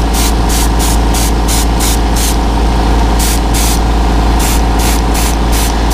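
An airbrush spraying white paint onto a crappie fishing lure, a loud close hiss with pulsing bursts as the trigger is worked, over a steady compressor hum.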